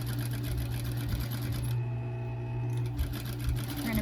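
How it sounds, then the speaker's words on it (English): A sewing machine stitches a medical face mask with a steady, close mechanical whir that runs almost continuously, broken only by a brief easing near the middle. "Alright, last corner, needle down, presser foot up, pivot, get to that red pin"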